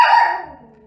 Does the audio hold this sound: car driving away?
no